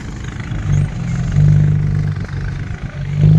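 A farm tractor engine runs close by with a steady, loud, low droning rumble that rises and dips slightly without stopping.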